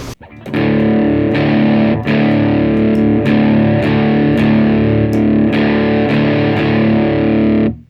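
Electric guitar played through a Sondery overdrive pedal with its boost switched on, giving a thick, loud distorted tone with bright top end. Sustained chords ring out steadily, restruck every second or so with sharp pick attacks and no talking.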